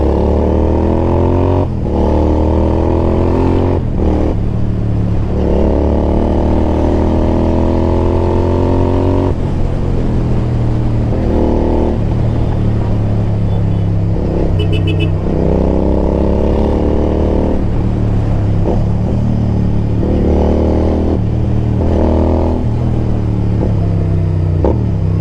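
A modified Royal Enfield Interceptor 650 motorcycle idles with a loud, deep, steady engine rumble, broken by several revving surges that rise and fall throughout, up close and without voices.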